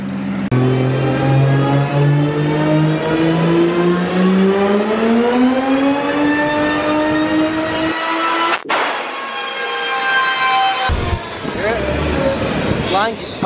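A big-turbo BMW 335i engine revs on a dyno, its pitch climbing steadily through a long pull before a sharp drop and a second shorter burst, loud and close.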